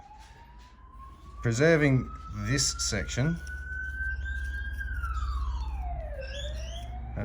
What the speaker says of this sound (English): the plan is, I'll just wait for these sirens to go past.